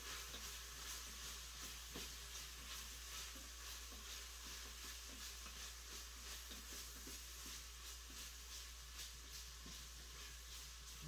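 Garlic and onion soften in a pan, giving a faint, steady, even sizzle throughout with no talking.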